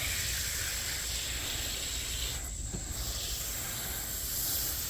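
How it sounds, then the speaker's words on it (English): An aerosol can of all-purpose foam cleaner sprays a thick layer onto a car seat, a loud continuous hiss that runs for the full length with a brief dip midway. "Get a nice thick layer of foam on there."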